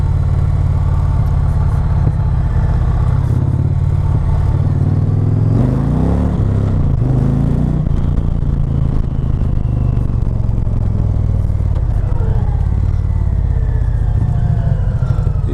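A 2020 Indian Challenger motorcycle rumbles steadily while riding, its engine loud and continuous with a brief swell of revving as the front wheel lifts slightly, wind noise and no talking.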